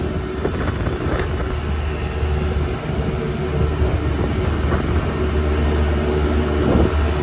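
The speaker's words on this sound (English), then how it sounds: "Got one fan spinning." Trane Voyager rooftop unit running in test mode, with a condenser fan spinning and the first cooling stage on, a loud steady low roar and hum with some wind buffeting on the microphone, no talking.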